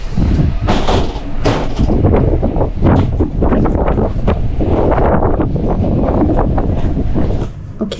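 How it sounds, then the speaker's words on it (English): Strong wind buffets the microphone outdoors near a ship on embarkation day, loud gusty roaring and rumbling in uneven bursts that stays heavy throughout before easing slightly at the end. "It's too windy to..."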